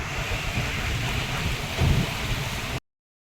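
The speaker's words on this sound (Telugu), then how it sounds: "వర్షం దబాజీ పడుతుంది" Heavy rain pours down steadily near a highway during a downpour, a dense continuous roar with a brief swell of louder drumming partway through, no voices.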